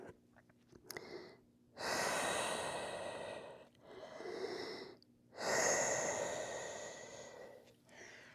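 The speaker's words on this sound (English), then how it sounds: "take a few deep breaths here" Slow, deep breaths during a Pilates rest pose on a mat: three long, breathy exhales with quiet pauses between them, close and clear, with no talking.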